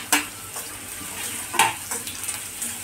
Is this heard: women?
no